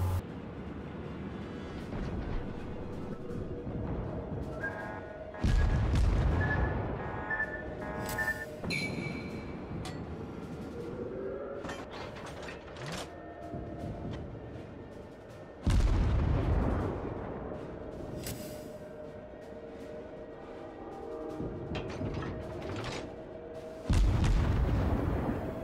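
Warship main guns fire in the naval battle game World of Warships from a USS Albany cruiser, three heavy booming salvos spaced several seconds apart over a constant engine and sea hum with faint interface tones.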